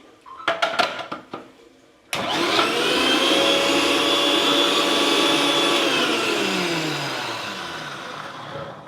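A kitchen mixer grinder (mixie) whirs loud and steady for several seconds, then winds down as it is switched off, after a few sharp knocks and clatters of setting it up.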